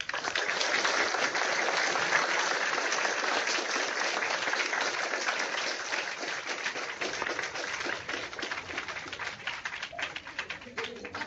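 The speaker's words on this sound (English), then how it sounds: "joining me in giving a warm round of applause to Pro Football Hall of Famer, Mr. Rayfield Wright." Applause for a Pro Football Hall of Famer at a virtual school event, a dense, continuous patter of clapping through a bandwidth-limited online call connection that gradually thins out toward the end.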